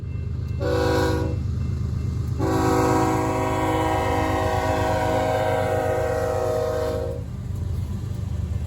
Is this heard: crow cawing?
no